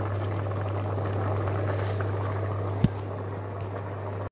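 A pot of egg and bottle gourd curry simmers, a steady bubbling boil with a low hum underneath and a single sharp knock near the end.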